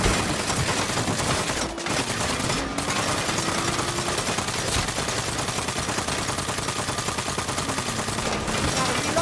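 Sustained gunfire rattles through a Saints Row shootout, rapid machine-gun bursts and overlapping shots forming a loud, nearly unbroken barrage, with a few short gaps.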